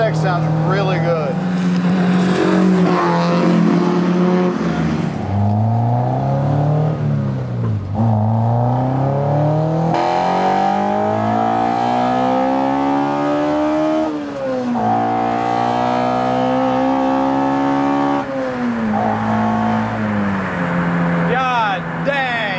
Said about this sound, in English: VTEC sounds really good.